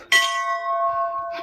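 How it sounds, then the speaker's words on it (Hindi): A metal temple bell at the Mahabgarh Mahadev temple is struck once, ringing loud and clear with a long sustained tone that fades slowly, with a faint rustle and a second touch at the end. "घंटी बजी"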